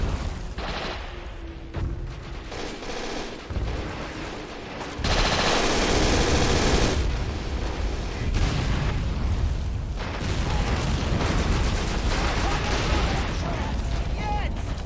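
Machine gun fire and explosions in the World War II strategy game Men of War: Assault Squad, dense bursts of rapid gunfire and booming blasts during a German defensive battle near Stalingrad, with someone talking over the action.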